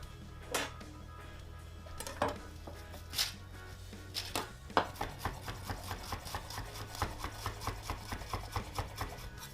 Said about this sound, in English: I'm just going to chop the coriander